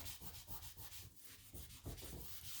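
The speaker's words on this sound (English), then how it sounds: "when you use the photo labeling pencil and you mark your picture, it will just go ahead and rub off" A tissue rubbing a photo labeling pencil mark off a picture gives quick, faint, close scrubbing strokes in an uneven back-and-forth rhythm, with no voices.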